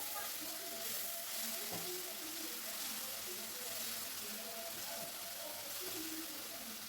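Rajma masala spices fry in oil in a pan, a soft, continuous sizzle with scattered scraping from stirring, quiet and close.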